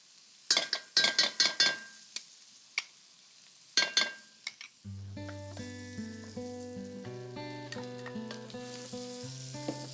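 Tomatoes cook in butter on a tawa with a bright sizzle, broken by quick metallic clinks of a utensil for about five seconds. Melodic music then plays over a fainter sizzle.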